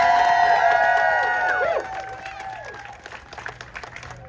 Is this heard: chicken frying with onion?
no